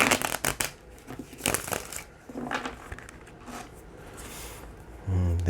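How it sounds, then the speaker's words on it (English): Tarot cards riffle and slap together in a few quick bursts of shuffling, close and crisp, with quieter pauses between. "This is our last shuffle here."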